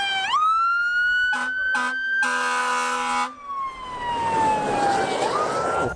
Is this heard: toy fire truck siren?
yes